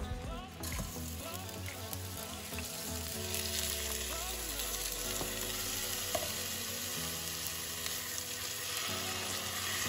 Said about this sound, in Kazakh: Майымыз қызған кезде күрішімізді салып қуырамыз.